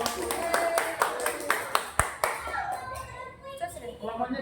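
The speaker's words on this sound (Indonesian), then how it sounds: "jadi berikan tepuk tangan untuk kelompok yang satu" A sixth-grade primary class claps for a student group, a brisk run of sharp, evenly spaced claps that fades out as children's chatter rises in the room.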